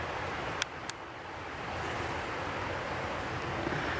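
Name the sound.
river rapids flowing at night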